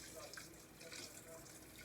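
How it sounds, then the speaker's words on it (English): Running tap water pours steadily over lima beans being rinsed in a kitchen sink, a soft continuous splashing hiss at low level with no pauses. "I'm just rinsing these off real good, y'all."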